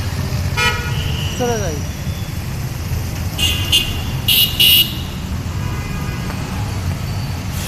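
Street traffic on a road being crossed in light drizzle, with a low steady engine rumble, passing vehicles and several short car horn toots; a person speaks briefly.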